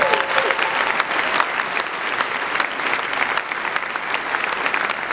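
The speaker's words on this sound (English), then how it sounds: "Give her a round of applause." Steady applause from a seated audience at a charity foundation community event, dense and even clapping that holds at the same level throughout without letting up.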